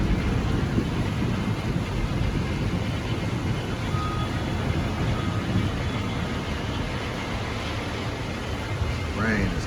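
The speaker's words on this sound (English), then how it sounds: "Rain is crazy." Heavy rain pours down in Lagos, Nigeria, a dense, steady roaring hiss that fills the whole stretch without letup, close and loud.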